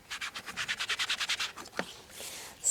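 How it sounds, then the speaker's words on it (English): A sponge rubbed over paper card to apply pink ink to a die-cut flower, a rhythmic run of about a dozen close, even scrubbing strokes followed by a few slower, looser rubs. "So we're just going to rub a little innocent pink over that flower"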